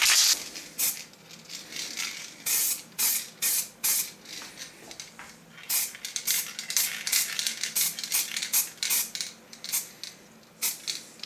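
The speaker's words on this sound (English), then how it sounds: "And I'm just using black spray paint." Repeated short hissing bursts of a black spray paint can over an engraving, irregular pulses separated by brief pauses, close to the microphone.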